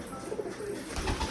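Domestic pigeons coo indoors in a loft, a male displaying in the room, with low, soft, overlapping murmurs close by and a slightly louder burst near the end.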